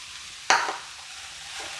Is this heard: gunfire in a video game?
no